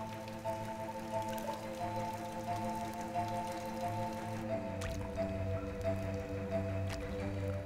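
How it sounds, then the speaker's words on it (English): Water drips and trickles inside a limestone cave, steady soft drops and squishy dribbles over a continuous low hum, fairly quiet throughout. "each dribble of water that trickles down the cave wall, leaves a minute mineral trace"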